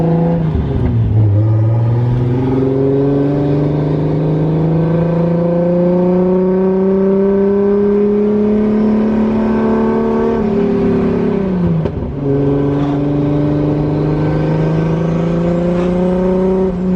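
A 555hp 2JZ-swapped Nissan 240SX S13 cruises close by, its six-cylinder engine droning steadily, rising through the revs, dipping briefly on gear changes and climbing again, with no voices.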